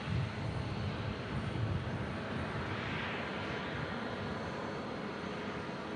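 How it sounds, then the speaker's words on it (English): An airplane takes off on runway 14 right at Omaha Eppley Field, its steady engine roar holding loud and constant throughout, with no voices over it. "Taking off on runway 14 right."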